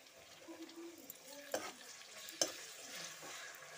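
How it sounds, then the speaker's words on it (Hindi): Tomatoes and green chilies frying with ginger and garlic in a pan for biryani, a quiet steady sizzle with a couple of sharp stirring knocks. "भून लेती हूँ इनको, साथ थोड़ा सा नमक ऐड कर देती हूँ"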